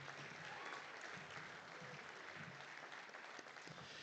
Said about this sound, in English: So a big round of applause for Ed and the whole family and all of them.